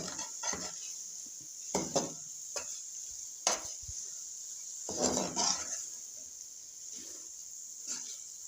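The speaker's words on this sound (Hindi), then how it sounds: "इसको मिक्स कर लेते हैं।" A spoon scraping and knocking against a pan while carrot halwa (gajar ka halwa) is stirred, a few soft irregular strokes over a steady faint hiss.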